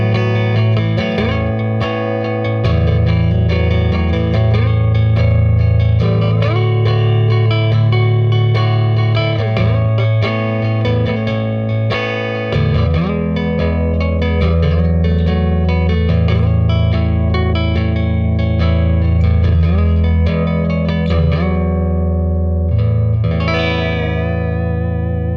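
An electric guitar, a Jazzmaster copy on its rhythm circuit, plays sustained chords and riffs through an amplifier with effects and reverb, loud and continuous, ending on a ringing strum.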